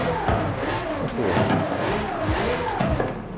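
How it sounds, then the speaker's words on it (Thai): A Lamborghini Sián Roadster fitted with a racing V12 in Forza Horizon 5 screams and revs in quick surges, with brief dips and tire noise, sharp and close. "เราสามารถเปลี่ยนไปวางเครื่อง Racing V12 ได้ด้วย"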